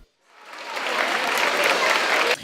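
An audience at a ceremony bursts into applause after a slam poem about discrimination. Many hands clap in a dense, loud wash that swells up from silence and cuts off abruptly near the end.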